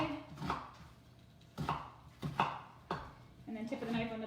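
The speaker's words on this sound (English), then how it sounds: "take your knife and run it this way, and then thin slices this way" Knife chopping a red onion on a cutting board, a few crisp sharp chops spaced unevenly, close and fairly loud, with a person speaking over and between them.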